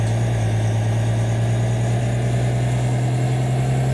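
A Cat diesel engine in a 2011 Blue Bird Vision school bus idles steadily, a low constant hum with mild vibration and no break for the whole stretch.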